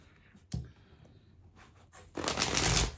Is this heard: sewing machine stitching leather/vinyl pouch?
no